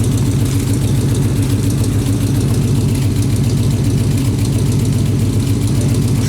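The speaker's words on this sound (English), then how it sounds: "Let her warm up, she's cold. But that's how she sounds out the back." A cold 1972 Ford LTD engine idles from the rear exhaust, a loud, steady, low rumbling throb with a regular pulsing beat throughout, close up and with no voices.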